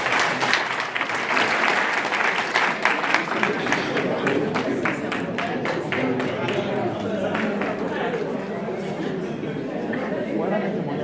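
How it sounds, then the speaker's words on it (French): An audience at a prayer meeting claps loudly in acclaim of Jesus, a dense burst of steady applause that slowly fades, with cheering voices and chatter mixed in. "Est-ce qu'on peut acclamer Jésus?"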